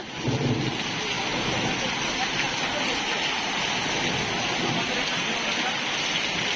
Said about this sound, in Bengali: দৌলতপুরে বৃষ্টি হচ্ছে আজকে প্রচুর শীতের পরে এই প্রথম বৃষ্টি হচ্ছে